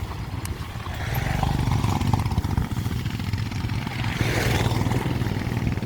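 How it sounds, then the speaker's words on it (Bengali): Motorcycle engine on the dusty Leh–Manali highway in Ladakh, a close, steady low rumble with a rough throbbing pulse throughout. "সব বাইকে যাচ্ছে"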